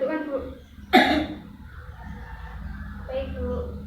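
A patient gives a single sharp cough during a breathing and coughing exercise, a short burst at close range with quiet breaths and murmuring before and after.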